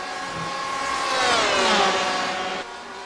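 A Porsche race car in iRacing at Imola screams down the main straight, its engine whine rising and sweeping in pitch as it passes close by, then dropping away abruptly.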